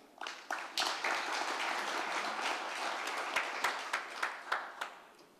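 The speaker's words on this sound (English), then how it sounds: "Let us clap for Focus on Uganda" An audience bursts into applause honouring Focus on Uganda, a thick wash of many hands clapping that holds steady, then thins toward the end into a few separate, louder claps.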